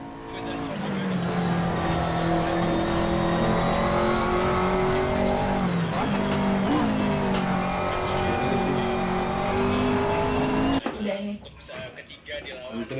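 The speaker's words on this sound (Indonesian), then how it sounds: "ini kita balap di track namanya Zandvoort di Belanda menggunakan mobil McLaren 650S GT3" A McLaren 650S GT3 race car laps Zandvoort in a racing game, its engine holding a loud, rising howl through upshifts before cutting off abruptly near the end, with a person talking over it.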